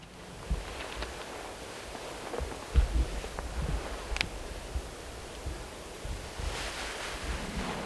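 Steady wind gusting across the microphone outdoors on Alabama public land in the morning, a broad rushing roar with occasional louder buffets and faint rustling, no voices.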